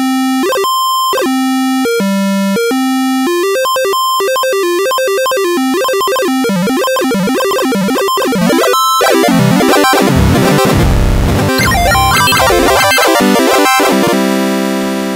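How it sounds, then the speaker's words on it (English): Synthesizer played through a bend sequence, giving glitchy, shreddy runs of rapid pitch-bent notes that stutter and jump, growing denser and noisier toward the end, loud and steady with no voices. "you can kind of get some weird, like shreddy or glitchy kind of stuff"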